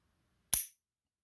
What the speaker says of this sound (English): Ruger designs their 22s to be dry fired